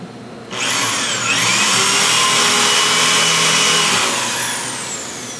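A power drill whines up to full speed and holds a high, steady drone while boring mounting holes for a fixed laser in a linear accelerator room, its pitch shifting slightly before winding down; no speech.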